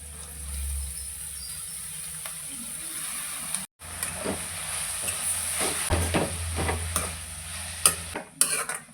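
Fresh chopped fenugreek leaves hitting a hot pan, a soft steady sizzle with stirring scrapes and clatters, close up and without talk.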